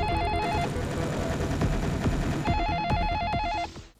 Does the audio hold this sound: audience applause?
no